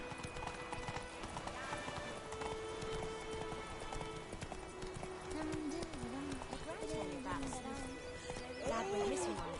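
Hooves of Roach, Geralt's horse in The Witcher 3: Wild Hunt, galloping in a fast, steady clip-clop, with a whinny and a voice talking over the hoofbeats.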